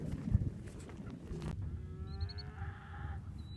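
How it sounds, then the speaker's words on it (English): Two cows in a wildlife-area pasture give a faint, low moo against soft outdoor wind noise, with distant bird calls. "Two cows."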